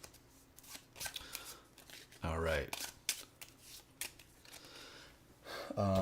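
Dark Souls board game cards being shuffled on a table, several short riffling bursts between brief spoken remarks, fairly quiet and close.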